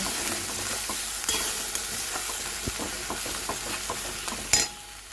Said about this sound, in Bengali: এরপর এর মধ্যে একটা বড় টমেটো বেটে রেখেছিলাম, এটা দিয়ে দিলাম, দিয়ে 3-4 মিনিট কষিয়ে নেব।